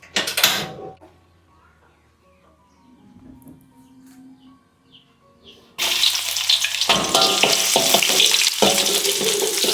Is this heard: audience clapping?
no